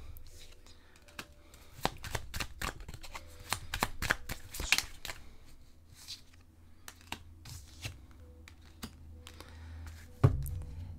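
Tarot cards are shuffled and drawn by hand in a series of crisp, irregular riffles and taps, close and fairly quiet, with a brief louder slap near the end.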